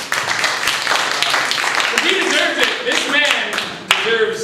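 Scattered clapping from an improv comedy show audience with dense taps, mixed with voices and cheering throughout.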